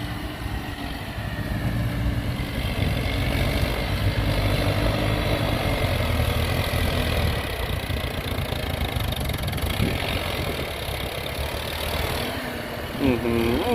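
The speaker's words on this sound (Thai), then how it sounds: "ดันดินเต็มใบมีดนะผู้ชม ไม่มีครึ่งเลยนะ" A large tractor's heavy diesel engine drones steadily and loudly throughout, working hard without letting up as it pushes a full blade of soil.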